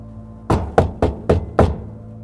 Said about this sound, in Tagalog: diretso siyang lumapit sa gate at kumatok